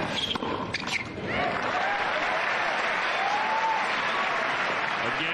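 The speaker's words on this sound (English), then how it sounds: "this crowd behind Agassi trying to get him back into the match" Tennis crowd applauding Andre Agassi during a match against Corretja at Washington in 2000, a dense, steady roar of clapping that swells after a brief opening and holds loud and continuous throughout.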